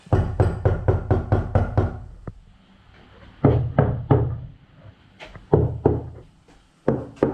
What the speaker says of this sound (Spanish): Ahí suena duro, suena a chapa con cierta consistencia